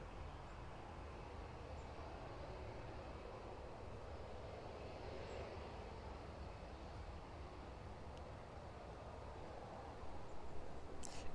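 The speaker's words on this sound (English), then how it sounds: "So that's 737 continuing to taxi then." A Boeing 737 airliner taxiing at East Midlands Airport, heard as a steady, faint, distant engine rumble and whine that holds constant throughout with no voices.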